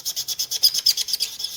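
Chalk pastel rubbing back and forth on paper makes a squeaky, raspy scraping in a quick steady rhythm of about a dozen short strokes, close and fairly loud, with no talking.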